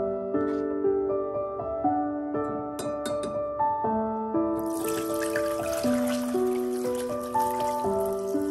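Homemade fertilizer liquid made from tangerine peels is strained, giving a steady splashing trickle that starts midway and runs under a melodic music track.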